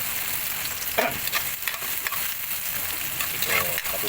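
Garlic, onion and ginger sizzle and fry in a hot pan, a steady crackling hiss with a few sharper stirring scrapes and clinks close by, with no talking.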